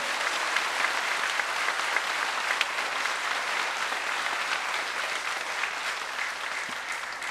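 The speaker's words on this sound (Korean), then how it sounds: "목사님께 격려의 박수 한번 보냅시다." A church congregation applauds steadily and loudly for a pastor, a dense even wash of many hands clapping that holds for the whole stretch with no talk over it.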